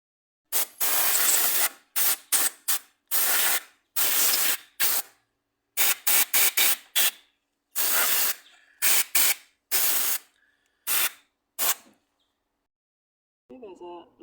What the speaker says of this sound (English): I'm just going to clean that up with some brake cleaner